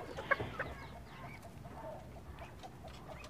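Chickens in a coop being merged from several pens, giving a few short clucks near the start before falling quiet against a low background hiss.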